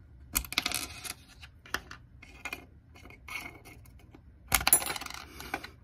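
Batteries being pulled out of an alarm sensor: a run of close, sharp plastic clicks and small metallic rattles in bursts, with quiet gaps between, no talking.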